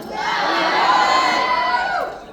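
A rowdy fan-convention crowd in Minnesota whoops, shouts and cheers together in one sustained roar that swells and then fades out.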